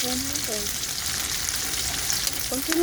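Chopped onion and garlic sizzle in hot oil in a pan after tofu has been fried, a loud steady crackling hiss with a few light utensil scrapes, no talking.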